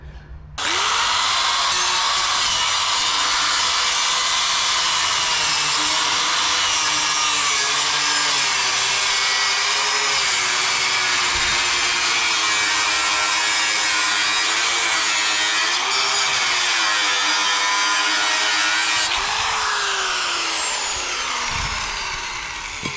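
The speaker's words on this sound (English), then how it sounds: "I think I'm just gonna cut around it and grind it down the best I can and make it smooth and non-lethal" An angle grinder cuts and grinds down a metal bracket while a square drop camper is prepared, a loud, continuous high-pitched whine with shifting tone as the disc bites and eases, close and steady for over twenty seconds.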